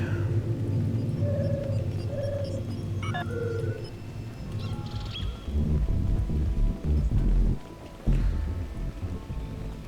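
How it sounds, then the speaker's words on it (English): Rain falls in the video game Star Trek Online as a steady hiss beneath game tones and rumbling effects. "It's supposed to be raindrops."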